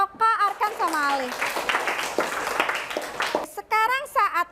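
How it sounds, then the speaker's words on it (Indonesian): Classroom applause for students Oka, Arkan and Ali, a dense patter of children's clapping filling the middle of the clip, with a teacher's voice speaking before and after. "tepuk tangan untuk Oka, Arkan sama Ali."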